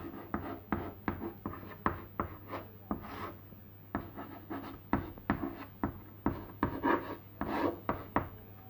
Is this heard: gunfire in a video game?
no